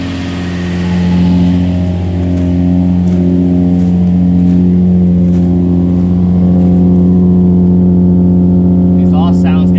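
A 2005 Infiniti G35 Coupe's exhaust revs up and holds a steady, loud engine drone throughout, rising once early on. The car sits after roughly a year without driving, and a few faint knocks sound over the exhaust.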